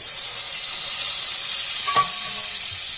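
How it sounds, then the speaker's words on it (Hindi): Butter melts in a hot kadhai with a continuous loud, hissing sizzle and a brief faint clink near the middle. "अब हम फिर से कढ़ाई गर्म होने के लिए दे देंगे। अब इसमें हम बटर डालेंगे।"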